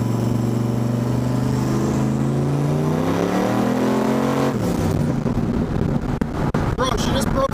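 A turbo Fox Body Mustang accelerates hard in third gear and spins its tires. The engine note climbs loud and close, drops at a shift, then turns into rough tire and engine noise, with voices shouting near the end.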